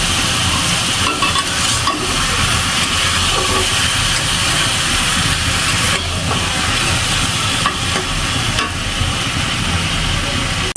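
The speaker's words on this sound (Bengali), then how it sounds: "শুক্তো রান্না করার জন্য সব সবজি দিয়ে নিছি, এখানে মশলাও দিয়ে নিছি। ভালো করে কষিয়ে নিব।" Vegetables and spices for Bengali shukto fry in a pan in a village home kitchen. A loud, steady sizzle and hiss runs throughout, with occasional stirring scrapes.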